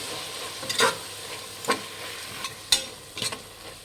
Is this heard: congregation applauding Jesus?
no